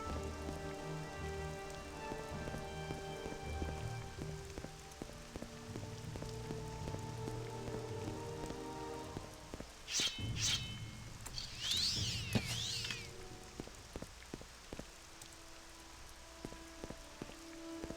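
Steady rain patters across a surface in the video game Morrowind, a continuous wash under game music with a few brief splashy bursts midway.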